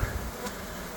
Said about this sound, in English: my bees are about to swarm, so I'm going to show you what to do. See, they're all circling around